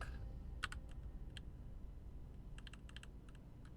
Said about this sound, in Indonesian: Jadi kita ketik